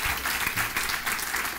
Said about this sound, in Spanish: Dele ese fuerte aplauso al Rey de Reyes y Señor de Señores